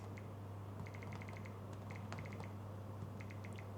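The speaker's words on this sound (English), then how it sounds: "let's just do a bit of typing to show you guys how it actually is." Light, irregular taps of typing on the virtual touchscreen keyboard of a 2026 ASUS Zenbook Duo (UX8407) laptop, in short bursts over a steady low hum, fairly quiet and close.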